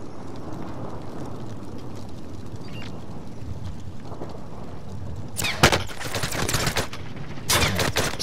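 Gunfire aimed at the player in a multiplayer shooter video game, loud bursts of shots erupting in the last few seconds over a steady rumbling background of game ambience.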